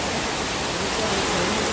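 Steady rushing water pours down after rain onto a tent pavilion at an outdoor religious gathering, a dense continuous hiss with no breaks.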